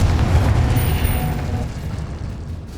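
A Confringo blasting curse explosion in the video game Hogwarts Legacy, a loud, booming burst with a deep rumble that fades over a couple of seconds.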